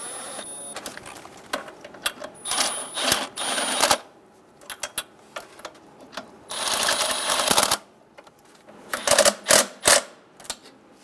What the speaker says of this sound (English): Snug all the bolts down.